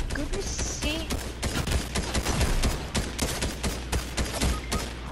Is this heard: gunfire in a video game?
yes